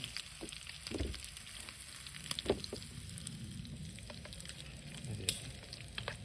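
Bacon bits frying in a small Trangia camping pan, a continuous close sizzle and crackle with occasional scraping taps of a wooden spatula against the non-stick surface.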